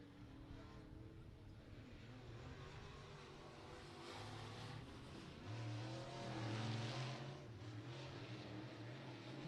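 A race car runs a qualifying lap at Beckley Motor Speedway, its engine a fairly faint, steady drone that swells and eases slightly as it circles the short oval.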